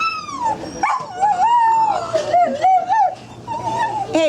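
Small dogs yip, whimper and give high, wavering howl-like cries almost without pause, close and fairly loud, with a faint voice in the background.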